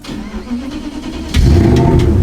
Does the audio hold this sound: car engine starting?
yes